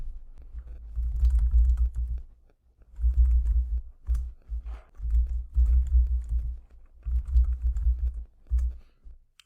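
Bursts of typing on a computer keyboard while entering times into an Excel spreadsheet, close and clear, in rhythmic clusters of rapid keystrokes separated by short pauses.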